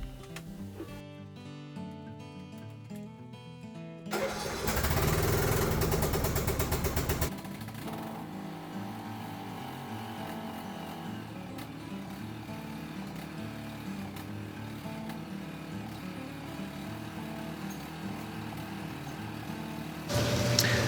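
A Craftsman barn-find riding mower engine running, a steady mid-level mechanical drone with a louder burst of revving near the start, continuing evenly throughout with no voices.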